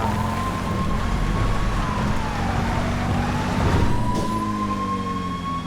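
Police car siren in a driving game, a loud continuous wail that rises and falls over a low engine rumble, close by and steady throughout with no speech.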